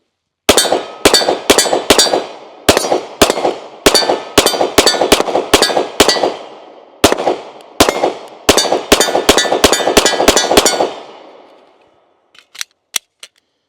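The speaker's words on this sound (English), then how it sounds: "take just a few more shots with this one as well" Handgun fitted with an OSight S red dot sight fired outdoors, loud sharp shots in quick strings with brief pauses between groups, each ringing out, followed by silence and then a few faint clicks.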